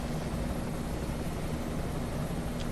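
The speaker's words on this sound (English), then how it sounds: "Yeah, pretty heavy sound from that big old rotor." Heavy, steady rotor and engine drone of a Sikorsky S-92 helicopter in a winter flight simulation, a continuous broadband roar holding at constant loudness throughout.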